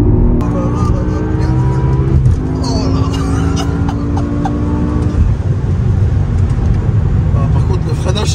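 A BMW M5's V10 engine revs hard, rising and falling in tone with gear changes, loud and close from inside the car while people talk over it.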